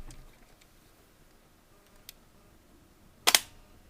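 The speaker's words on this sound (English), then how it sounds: "The shutter opened." After a few faint ticks, a Polaroid camera shutter opens once with a sharp mechanical double click near the end, close and distinct against near silence.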